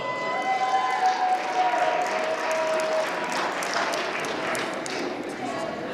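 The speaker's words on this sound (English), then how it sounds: "give another round of applause for Danielle" An audience at a poetry slam applauds poet Danielle, a steady wash of clapping from a crowd that runs the whole stretch, with a faint tone sounding in the middle.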